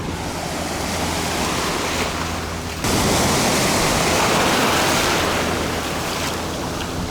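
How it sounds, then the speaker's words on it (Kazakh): Sea waves break on a Phuket beach with murky brown water: a continuous loud, close wash of surf and rushing water that swells stronger midway, with wind buffeting the microphone. "Толқын бар екен."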